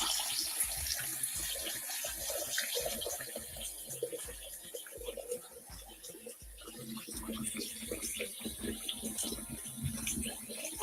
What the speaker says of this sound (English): Now let's fill this up.